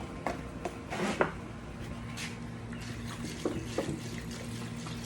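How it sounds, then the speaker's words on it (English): Water splashes and trickles into a pot at close range, with a few clinks and knocks, fairly quiet. "Get my water in the pot."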